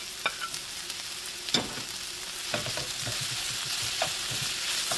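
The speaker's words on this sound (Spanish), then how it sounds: "Ahora le vamos a estar agregando toda la cebolla. Vamos a estar agregando ya lo que son las rajitas de chile." Onion and poblano chile strips frying in a little oil for rajas con crema, a steady close sizzle broken by occasional clicks and scrapes of stirring, with no voices.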